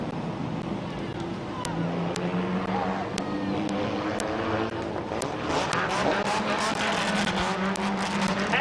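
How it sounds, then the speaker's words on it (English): Compact race cars in a heat race at Midvale Speedway roar around the track with a steady, sustained engine drone that swells toward the end, heard at a distance beneath an announcer's voice. "Brent Irwin rounds out the field in this compact heat race."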